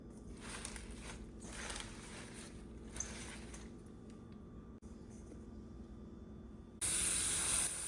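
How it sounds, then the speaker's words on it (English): Kale leaves being rinsed under a running tap, a steady broadband hiss of flowing water throughout, growing sharply louder and brighter near the end as the flow strengthens or hits the leaves directly. "I rinsed the kale thoroughly about 4 to 5 times to make sure there is no dirt or sand left"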